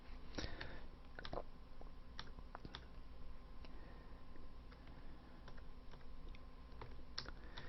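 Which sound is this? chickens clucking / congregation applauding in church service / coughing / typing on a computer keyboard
typing on a computer keyboard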